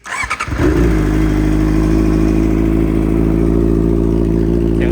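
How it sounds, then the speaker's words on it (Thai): A 2018 Honda CBR650R sport motorcycle with 22,000 km on it cranks with a short clattering start, then settles into a loud, steady idle rumble heard up close, with no talking. "มาสตาร์ทฟังเสียงเครื่องยนต์กันนะครับ"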